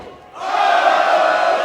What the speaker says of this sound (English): People are booing USA?